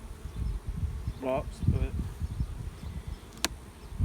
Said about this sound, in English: So we got a pile of bees down on this frame.